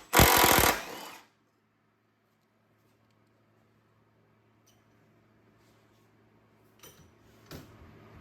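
A cordless impact wrench driving through a stack of extensions on a CP 2.5 battery, during maintenance on a car, fires one loud, harsh hammering burst of about a second, then near silence with faint clatter near the end.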